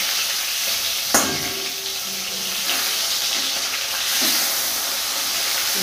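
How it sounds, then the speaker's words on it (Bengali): Pieces of rohu fish fry in hot oil in a pan, giving a steady, close sizzle throughout, with a sharp clink near the start. "একটু লাল করে ভেজে নিতে হবে।"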